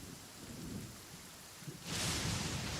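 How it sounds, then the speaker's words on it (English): Steady rain hisses throughout in a video game, and partway in a loud thunderclap rolls in, the downpour swelling heavier and louder to the end. "It always rains when I go on an adventure."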